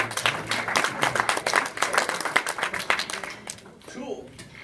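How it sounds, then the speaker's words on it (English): A crowd at a live event applauding Braden, a dense burst of clapping that rises and fades, with voices mixed in underneath. "Give Braden a round of applause"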